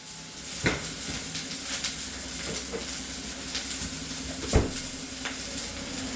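Onion, chili and dried curry leaves fry in hot oil with a steady, soft sizzling hiss, broken by a couple of sharper knocks from a utensil against the pan.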